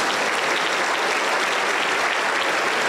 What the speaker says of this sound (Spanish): Un fuerte aplauso para el Señor Jesús.